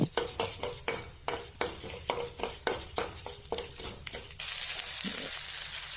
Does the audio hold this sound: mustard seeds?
yes